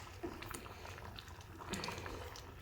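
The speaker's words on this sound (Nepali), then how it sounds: "अब एकछिन 5 मिनेटपछि यसरी हेर्दा यो दाल न उम्लिरहेको छ है।" Chana masala dal boiling in a pot over a medium flame, faint soft bubbling and popping with scattered small blips, quiet and close.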